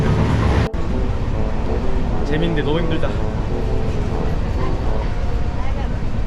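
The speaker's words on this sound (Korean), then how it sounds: "아 원래 기차 분위기는 이래요." Steady rumble and rattle inside a moving train in India on a 14-hour overnight journey, a continuous loud roar from start to finish with people talking over it.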